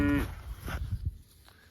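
A neighbor's cattle bawling on a farm pasture without grass, one brief low moo at the start followed by fainter rustling and ambient noise outdoors.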